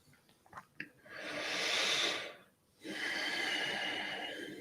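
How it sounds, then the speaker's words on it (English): Slow, deep breaths drawn in and let out during a guided mindfulness session, a long broad inhale followed by a brief pause and a long exhale, close and steady with no talking. "Breathing in and breathing out."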